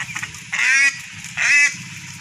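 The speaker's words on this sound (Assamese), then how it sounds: "এইজনী বেলেগ খটাখুৰ হাঁহজনী" A tethered domestic duck with ducklings nearby gives two loud, nasal honks about a second apart. Quieter rustling farmyard background fills the gaps, and no one speaks.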